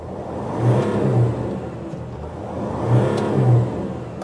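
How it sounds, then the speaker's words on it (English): A Mercedes Sprinter van's engine accelerates while driving, rising in two revving swells with a steady whirring drone between them, close and clear with no talk. "so the van now has a lot of power. It drives well."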